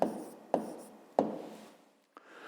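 A hand writing out a math answer on paper, a few distinct strokes and taps with scratchy rubbing between them, close and quiet, with a pause before a last light touch.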